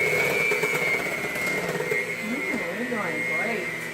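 An electric mixer whirs steadily while mixing chocolate chip peanut butter cookie dough, a constant mid-pitched motor drone that stays close and loud, with a voice speaking over it.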